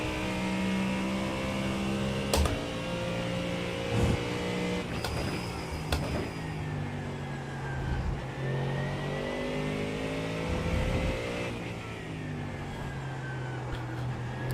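A GT3 racing car engine in the iRacing simulator at Sebring revs and shifts continuously, pitch climbing and dropping through gear changes, with a few clicks along the way.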